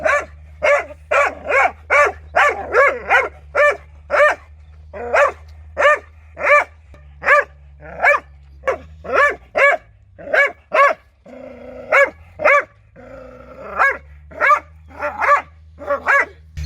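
A puppy barks and growls in a steady run of short, loud, close yaps with low rumbling growls between them, repeated roughly every half second with a few brief pauses.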